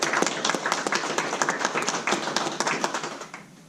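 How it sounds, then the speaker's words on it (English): Round of applause from an audience at an African ambassadors' energy conference in Doha, a steady patter of many hands clapping at moderate level before fading out. "Can you give him a round of applause?"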